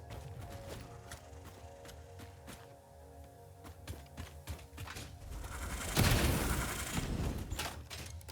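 Gunfire aimed at the player in the factory-building game Satisfactory: a rapid rattle of shots over mechanical clanking and whirring, swelling into a louder burst near the end.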